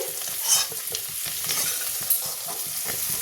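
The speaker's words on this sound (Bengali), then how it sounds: "তো আমি আলুগুলোকে তুলে নিচ্ছি আস্তে আস্তে।" Fried potatoes being lifted slowly out of hot oil, a continuous dense sizzle up close with soft rhythmic spatula scrapes and a couple of brighter spatters.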